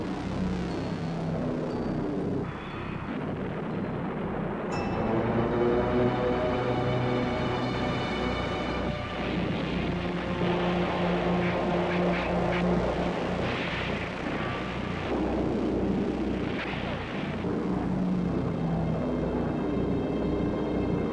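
Droning propeller engines of Allied Hawker Typhoon fighter aircraft over wartime France, a continuous loud roar with shifting pitch and rumble from the attacks beneath.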